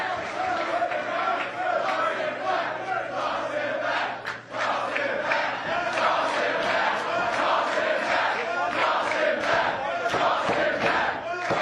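A packed Pro Wrestling Guerrilla crowd roars and chants continuously during a three-way match of Jeff Cobb, Keith Lee and Ricochet, a loud, dense wall of cheering with sharp claps and shouts rising through it.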